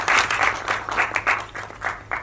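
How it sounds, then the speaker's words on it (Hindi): An audience at a film trailer launch event claps loudly, a dense burst of applause that swells and fades in uneven waves for a couple of seconds. "जरा जोरदार ताली हो जाए प्लीज।"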